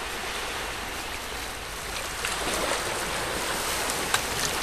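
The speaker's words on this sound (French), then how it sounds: "Le bruit des vagues vous hypnotise" Waves wash along the banks of the Saint Lawrence in a steady broadband rush mixed with wind. The sound is moderately faint and continuous, with a few small splashes and no voices.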